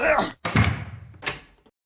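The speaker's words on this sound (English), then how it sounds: "Now, close the door." A door shuts with a solid thunk, followed by a second sharp knock, while voices talk over and around it.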